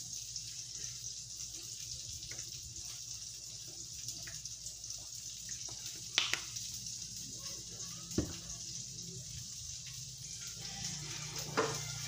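Torta omelette frying in a pan, a steady soft sizzle running throughout with a few faint clicks and taps of utensils, no talking.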